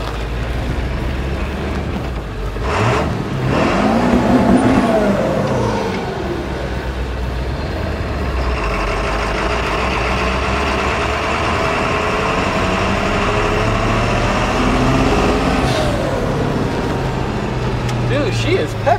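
A 1972 Ford F250 4x4 with a swapped-in 7.3 Powerstroke turbo diesel runs and pulls away, a deep rumbling engine rising and falling as it revs, heard from inside the cab with people talking over it.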